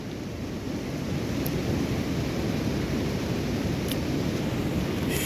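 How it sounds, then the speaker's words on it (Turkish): Steady, dense rain hiss with a low rumbling wash underneath, constant and enveloping throughout, in the Rize and Trabzon region of Turkey. "der demez aradan 10 dakika geçti, yağmur başladı"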